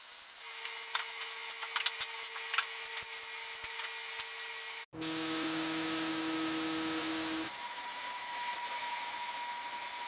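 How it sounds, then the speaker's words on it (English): A pressure washer cleaning an abandoned superbike: scraping and tapping with a faint hum at first, then after a sharp cutoff a loud steady hissing spray with a motor drone that shifts pitch partway through. "That pressure washer should do the trick."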